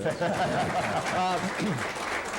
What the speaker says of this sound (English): little round of applause for the county there.